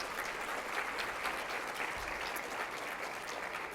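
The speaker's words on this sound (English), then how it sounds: "A round of applause for Dr." A seated audience claps for a keynote speaker at a talk on building healthy places, a fairly distant, even wash of applause lasting several seconds with a faint low thump partway through.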